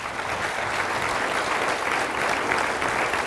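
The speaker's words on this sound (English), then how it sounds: "Applause, please." Steady audience applause fills the space, dense and continuous clapping at even loudness from a room full of listeners at a talk, with no voices standing out.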